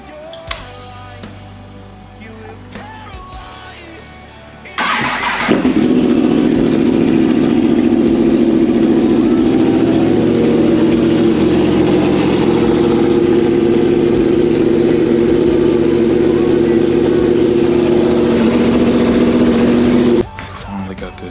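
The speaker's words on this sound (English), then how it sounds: "Started the bike, ran it" A 2022 Yamaha R1 sport motorcycle starts and runs at a steady, loud idle for about fifteen seconds, close by in an enclosed space, during a coolant change. Quieter background sounds come before it, and the engine cuts off abruptly at the end.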